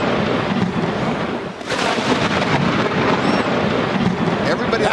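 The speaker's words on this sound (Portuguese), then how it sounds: "Se qualquer um aqui ouvisse esse trovão, também teria saído correndo bem depressa" A loud, deafening thunderclap booms over a baseball game, a dense rumbling roar that fills the whole stretch, dipping briefly before surging back with rain-like hiss and possible faint voices beneath.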